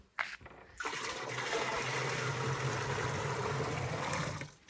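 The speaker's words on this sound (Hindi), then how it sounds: "तो डाल दिया पानी" Water gushes into a mixture of soaking wheat seed after a brief knock, then a strong, steady rushing pour continues for several seconds before cutting off.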